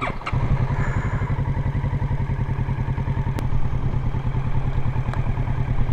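A motorcycle engine revs steadily as a learner rider on an A2 licence course accelerates during a turning start, a loud, close, continuous throbbing note with a slight rise partway through.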